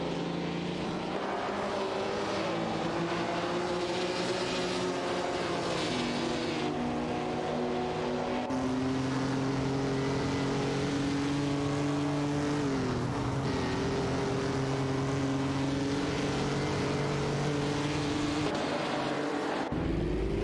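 AI-driven race cars at full throttle in a racing video game, a continuous loud engine drone with rising and shifting pitch as several cars sweep past, with no one speaking.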